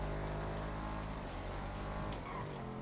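A car engine drones and revs steadily up close in a roleplay video game, a continuous loud motor tone that shifts slightly in pitch over a few seconds.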